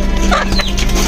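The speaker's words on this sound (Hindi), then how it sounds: "यहाँ पे हमारे छोटे छोटे से चूजे हैं जो अभी ये बाहर हमने रखे हैं" Chickens cluck close by in a short, loud burst over a steady background hum, with small chicks kept nearby.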